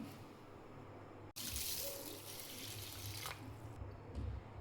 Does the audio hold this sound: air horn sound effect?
no